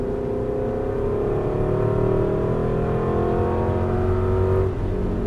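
Aston Martin V8 Vantage engine pulling hard under throttle on a racetrack, a steady droning roar rising in pitch, heard close from inside the car, then easing off near the end.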